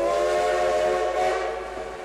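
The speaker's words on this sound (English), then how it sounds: "a locomotive whistle like the ones we have here" A loud, sustained steam locomotive whistle on the Durango and Silverton Narrow Gauge Railroad, rich harmonic tone blowing steadily for about two seconds, fading slightly at the end.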